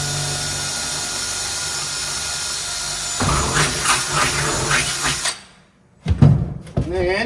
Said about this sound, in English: I'm just drilling 3/16 holes using the holes that are already in the ring as a guide.